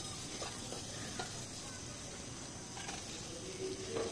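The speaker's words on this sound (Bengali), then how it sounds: "দিয়ে ভালো করে নেড়ে চেড়ে ভেজে নিচ্ছি" Green chillies and olives stirred and frying in a pan for an olive curry, a soft steady hiss of sizzling with faint scraping of the stirring, quiet and close throughout.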